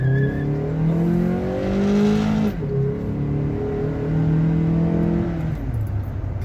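Car engine revving and accelerating with a Roar throttle pedal set to its most sensitive race mode, a loud steady roar rising through several gear-like pitch climbs, with a brief dip before climbing again, no talking.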